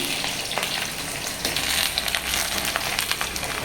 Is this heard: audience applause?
no